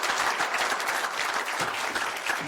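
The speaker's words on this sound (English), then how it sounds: "Another round of applause for our middle school teams this morning." An audience applauds a middle school team at a morning pitch event, a dense, steady patter of many hands clapping throughout at moderate volume.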